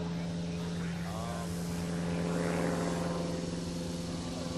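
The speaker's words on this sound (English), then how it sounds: "electric tow plane coming back again" An electric tow plane, a Sig Rascal 110 with a 110-inch wingspan, flies overhead at a model aerotow event, its steady propeller drone held over a constant hum while people talk nearby.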